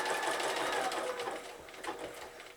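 Sewing machine stitching zig-zag applique on birthday bunting, a close, fast mechanical whir with rapid ticking that eases slightly toward the end.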